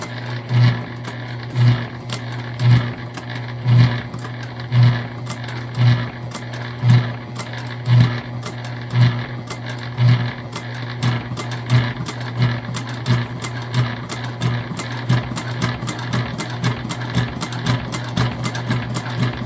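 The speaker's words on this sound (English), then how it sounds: "I'm just sort of keeping in line with that first stitch that we made" A sewing machine stitches a bag in close, loud runs, first with slow pulsing bursts roughly once a second, then speeding into a faster, steady stitching rhythm.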